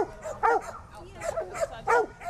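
Dogs and puppies at a city animal shelter in Mobile yap and bark in short bursts, several close barks spaced across the moment with kennel noise between.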